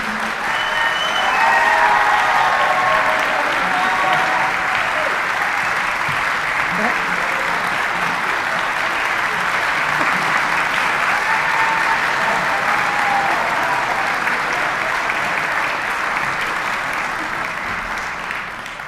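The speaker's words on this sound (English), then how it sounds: "Another round of applause for Dr. Halseth and the honor band." Sustained applause from a concert audience for a high school honor band at a county honors concert, steady and dense for the whole stretch with a slight fade at the end, with some crowd voices mixed in.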